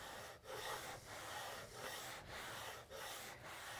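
A small homemade sanding block, made from a miter-cut piece of wood with abrasive screwed on, is rubbed at an angle along the corners of a laminated wooden chess board, giving steady close strokes with brief gaps between them.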